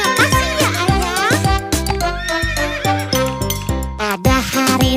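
A horse pulling a delman carriage neighs loudly near the start, mixed into a busy children's song with rhythmic instruments playing throughout.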